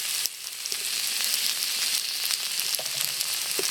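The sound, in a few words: okra frying with spices in a pan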